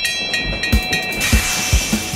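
A cartoon-style train chugs along in a steady rhythm of soft puffing beats about every half second, with a bright sustained tone held above, close and moderately loud.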